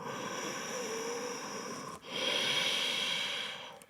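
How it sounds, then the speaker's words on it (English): Slow, deep breathing during a yoga forward bend: a long airy inhale, a brief pause, then a fuller drawn breath, close and steady with no talking. "inhale, raise the arm up and slowly bend forward. 1, deep breathing."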